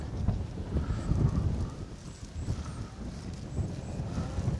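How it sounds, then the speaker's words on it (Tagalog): Strong typhoon wind buffets the microphone in gusty low rumbles, rising and falling continuously with faint rustling underneath, in the Philippines. "Ang lakas ng hangin."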